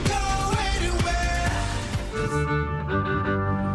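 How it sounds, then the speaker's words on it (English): A genre-bending duo plays classical-style violin music with sustained bowed melody lines over a steady beat and bass, loud and continuous with no talking. "Chances are you haven't heard classical music that sounds like this."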